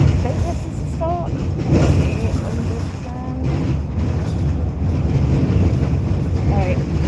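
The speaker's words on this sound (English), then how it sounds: "It's really windy outside." Strong wind outside buffets the microphone with a dense, continuous roaring rush that rises and falls in gusts, while a person speaks intermittently beneath it.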